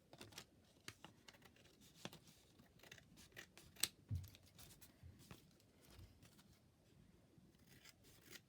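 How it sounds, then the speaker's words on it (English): Scissors trim paper ephemera for a journal with sharp, quiet snips and rustles of handled paper, spaced irregularly at close range with no talking. "I might have to trim this off"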